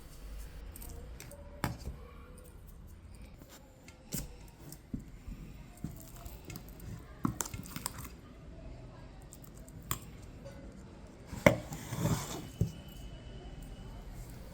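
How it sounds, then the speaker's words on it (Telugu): Peeled bottle gourd is cut into medium pieces with a knife, giving a series of irregular close crisp chops and taps, with a louder cluster of cuts near the end and no talking. "సొరకాయను తొక్క తీసి మీడియం సైజు ముక్కలుగా కట్ చేయాలి"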